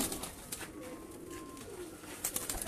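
Baby pigeons cooing softly at a pigeon keeper's home in a village, low murmuring calls repeating close by with faint background noise and no talk.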